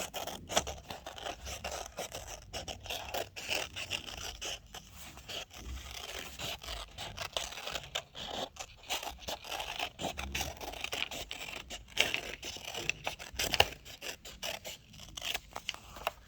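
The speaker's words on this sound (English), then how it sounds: "So I'm just following the outside line with my scissors." Quiet, continuous snipping and scraping of scissors cutting through paper, with irregular rhythmic cuts and rustling up close, no voices.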